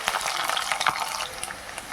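Garlic sizzles and crackles steadily in hot oil with mustard seeds, fenugreek, cumin and pepper, for a spicy Tamil kuzhambu with green turkey berries, a dense close frying hiss with scattered pops.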